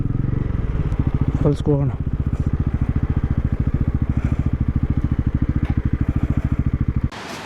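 A motorcycle engine idles with a steady, close, throbbing chug in a parking spot near Shivanasamudra falls on the Kaveri river. A voice speaks briefly over it, and then the engine cuts off near the end.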